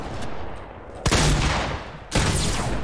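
Two sharp gunshot bursts from a Fortnite flick shot ring out over a busy game-sound bed, the first near the one-second mark and the second about a second later, each loud and close with a lingering tail.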